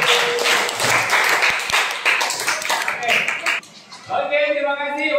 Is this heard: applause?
yes